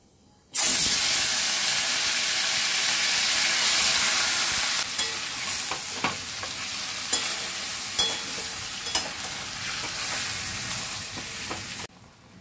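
Whole spices, cardamom among them, sizzle in hot oil as a tempering for chicken rezala: a loud, dense, continuous frying hiss at close range with occasional clicks of stirring and no speech.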